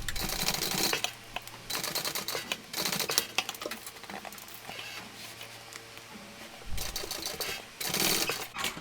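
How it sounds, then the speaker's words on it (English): Sewing machine stitching seams in thick vinyl for a shoulder bag, rapid mechanical needle chatter in several bursts separated by short pauses, close and fairly quiet. "Sew that with the seam allowance given in the pattern."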